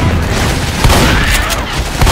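A grenade goes off during a zombie fight in Left 4 Dead 2, a loud, dense blast sustained over a couple of seconds amid surrounding gunfire.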